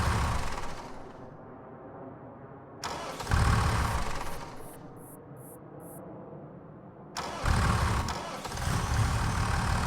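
An old vehicle engine that has sat unused for a while cranks and catches in repeated loud bursts, dropping back between attempts, with no voices over it.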